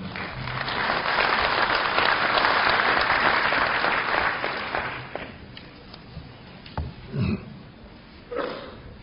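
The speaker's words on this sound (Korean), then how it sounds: "박수로 맞아주시기 바랍니다" A crowd claps steadily in sustained applause at a university entrance ceremony, gradually fading out, leaving a few isolated claps and small noises.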